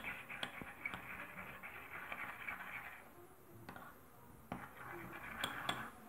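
A honey mustard salad dressing is whisked in a bowl with a utensil, giving quiet, irregular clinks and taps of metal against the dish. Short bursts of scraping come between pauses.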